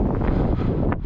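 Strong wind on Mount Koshka near Simeiz, Crimea, roaring and buffeting the microphone in a brief, loud, continuous blast with slight fluctuations.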